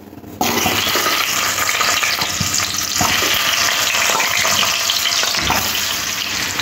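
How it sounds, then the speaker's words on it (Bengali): Boiled baby potatoes dropped into hot oil in a wok, a loud sudden sizzle bursting in after a quiet start and holding as a steady, crackling fry with faint stirring. "তেলটা খুব ভালো গরম হয়ে গেলে আলুগুলো দিয়ে দেব।"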